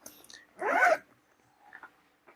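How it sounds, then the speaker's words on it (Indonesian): A zipper on a fabric bag for machetes and slaughtering knives is pulled open in one quick, close rasp, with soft handling rustles before and after. "Kita buka satu per satu. Ini ada dua resleting yang ukuran besar dan dua resleting depan belakang untuk ukuran sedikit sedang."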